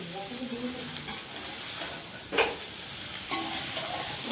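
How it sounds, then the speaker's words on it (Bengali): Chowmein fries crisp in a pan with a continuous soft sizzle and hiss. Occasional stirring scrapes break through, and faint voices sit in the background. "শুধু ভাজা হচ্ছে দেখো চাউমিনটা, কড়া কড়া করে ভাজা হবে"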